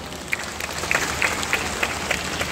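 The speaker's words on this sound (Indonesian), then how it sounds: "Tepuk tangan dong." An audience claps at a company Halal Bihalal gathering for PT GS Battery staff, a steady broadband patter of many hands with a few sharper, louder claps standing out and no talk over it.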